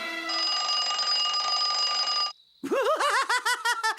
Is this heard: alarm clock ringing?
yes